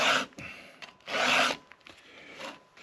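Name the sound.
filing a chainsaw chain with a 2-in-1 filing guide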